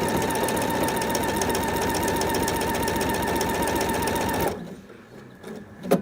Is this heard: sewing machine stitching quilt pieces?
yes